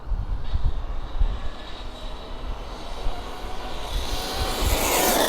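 An overpowered RC car runs at full throttle with something slipping badly. The motor gives a high, strained whine that swells from a distance and grows louder toward the end, with wind noise underneath.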